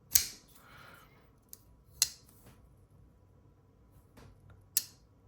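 The detent of a Null Knives Ghoul folding knife clicks three times with crisp, sharp snaps spaced a couple of seconds apart, close up in a quiet room, with a few fainter ticks in between.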